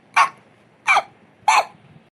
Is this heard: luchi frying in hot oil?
no